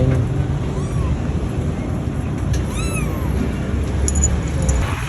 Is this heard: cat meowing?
yes